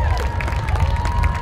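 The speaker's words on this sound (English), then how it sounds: "How about a big round of applause for them while they get into position to play?" Crowd applause at a high school football game for a junior high school band, a brief steady wash of clapping and faint cheering from spectators in the stands.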